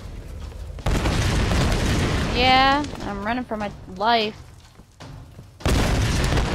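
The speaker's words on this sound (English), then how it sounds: "Explosions!" Explosions in the Tomb Raider video game boom out in loud bursts at the start and end, with a person talking over the game sounds in between.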